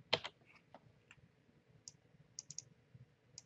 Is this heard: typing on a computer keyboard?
yes